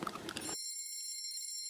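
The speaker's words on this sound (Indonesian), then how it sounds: "Udah bel tuh." A school bell rings in a bright, sustained metallic tone that starts abruptly after a brief moment of chatter and carries on evenly to the end.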